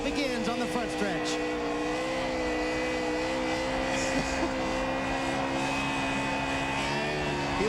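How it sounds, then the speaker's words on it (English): A NASCAR Busch Series race car does a burnout on the front stretch after winning the 2001 NAPAonline.com 250, its engine holding a loud, steady high roar with tire noise, while a commentator talks over it throughout. "they make it to victory lane, and the burnout begins on the front stretch"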